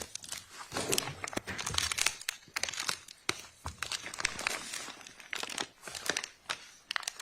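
A plastic bag crinkles and rustles loudly at close range as it is opened and handled, with sharp irregular crackles and crunches continuing throughout.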